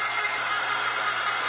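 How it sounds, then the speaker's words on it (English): A hair dryer blows on a snowman door hanger craft, giving a steady, loud, close-up whoosh of air with no talking over it. "Let me get my dryer here."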